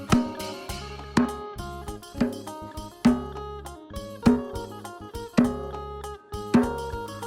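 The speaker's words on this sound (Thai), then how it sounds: "นี่คือเสียงกองยาวจากหนังไมล่าฟิล์ม" A Thai long drum with a Mylar film head and no putty applied is struck in a steady rhythm, each hit a ringing, resonant boom that decays before the next, alongside layered pitched tones.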